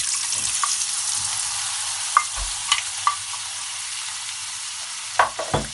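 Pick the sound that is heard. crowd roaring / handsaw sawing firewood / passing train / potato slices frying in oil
potato slices frying in oil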